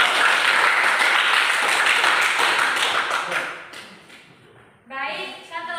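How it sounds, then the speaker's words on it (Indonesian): A group claps loudly and steadily for several seconds at a school gathering, then the applause thins out and fades, and a voice begins speaking. "Kasih tepuk tangan dulu untuk kita."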